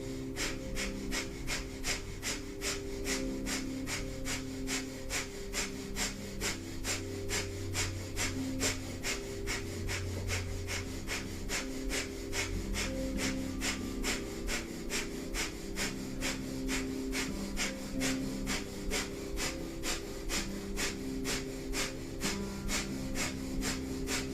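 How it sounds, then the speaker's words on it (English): Rapid, rhythmic breath-of-fire yoga breathing during a Kundalini kriya, a steady stream of quick even exhalations repeating without pause, close and continuous with no talk. "begin breath of fire"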